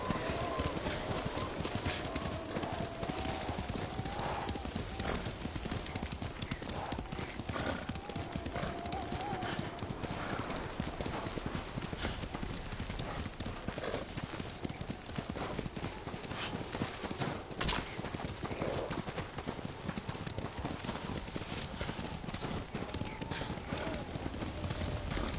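Horse hooves clip-clop steadily with occasional neighs and whinnies in the video game Ghost of Tsushima, a continuous rhythmic trot heard close under spoken dialogue and ambient game sound.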